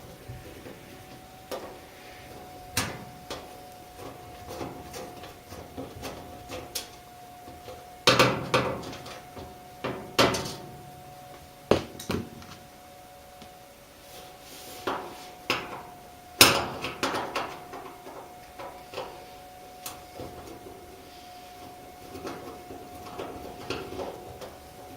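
Screws come out of the door switch on a Whirlpool dryer, heard as scattered close metallic clicks, taps and small clatters of a screwdriver and parts, irregular and fairly quiet, with no talk.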